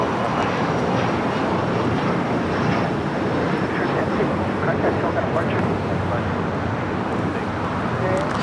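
An Airbus A350 airliner moves at LAX airport, giving a broad, steady jet rumble and hiss that holds at a constant level throughout.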